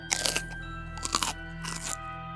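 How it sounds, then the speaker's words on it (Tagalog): Three sharp, wet crunches in quick succession, close and distinct, like hard bits being bitten and chewed, over a low steady hum. "may narinig siyang parang tunog ng ngumunguya ng buto"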